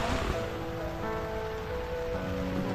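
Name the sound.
rain falling at campsite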